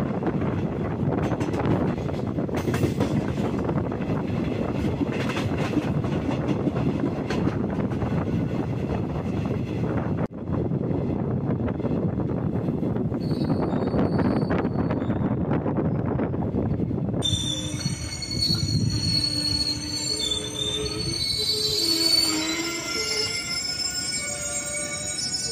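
The Kochuveli Garib Rath Express rumbles steadily along the rails on the Kochuveli to Yesvantpur run, its wheels clattering loud and close. Sharp metallic squeals rise in the final stretch.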